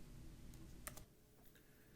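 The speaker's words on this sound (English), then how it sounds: "manually start typing them in" Someone types on a computer keyboard, producing a brief cluster of quiet clicks and keystrokes that is faint and close against low background hum.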